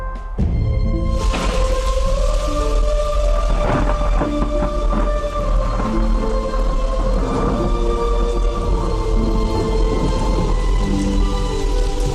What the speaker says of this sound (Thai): แต่ฝนมันตกหนักแล้วอะ